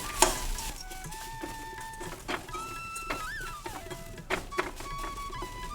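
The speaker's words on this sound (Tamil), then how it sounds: "இப்போ தேங்காய் நல்லா வறுபட்டுடுச்சு" Grated coconut is dry-roasted in a pan until brown for sambar powder, making soft sizzling and stirring scrapes with sharp spoon clinks against the pan and faint tonal kitchen beeps, fairly quiet and with no talking.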